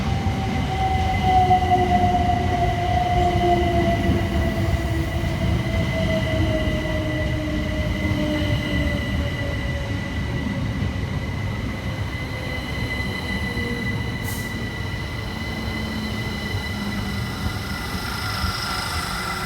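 Southern Class 377 electric multiple units 377609 and 377702 pull into Carshalton station, a steady loud rumble of wheels on rail with long descending brake and wheel squeals running throughout the arrival.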